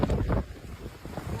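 Typhoon winds of about 200 km/h battering high-rise buildings in China, heard as heavy, gusting roar and buffeting rumble close to the microphone, loud and unbroken.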